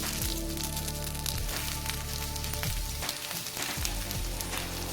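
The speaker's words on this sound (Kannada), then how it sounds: "ನಾನು 2 ಎಲೆಯ ಗಟ್ಟಿಯನ್ನು ಮಾತ್ರ ಫ್ರೈ ಮಾಡ್ತಾ ಇದ್ದೇನೆ" Pathrode slices frying on a hot tawa, a continuous close sizzle and crackle holding steady throughout, with no speech over it.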